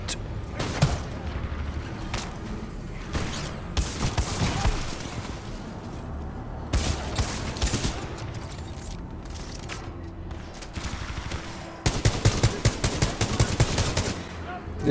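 Rapid weapon fire in the Titanfall 2 campaign: long bursts of fast, loud automatic shots alternate with booms and mechanical clatter, ending in a sharp, quick string of close shots.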